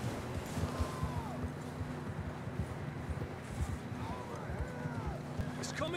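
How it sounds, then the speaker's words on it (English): Horse hooves clip-clop at a steady trot through snow in the video game Red Dead Redemption 2, a rhythmic patter under game ambience with occasional distant calls. "I don't think we can go much further on the horses"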